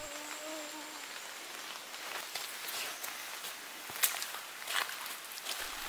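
Steady patter of rain falling in a forest, a dense hiss with scattered sharper drops and occasional louder splashes, continuous and close throughout.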